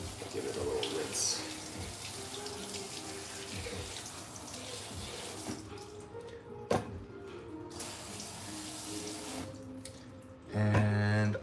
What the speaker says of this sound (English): Give it a little rinse.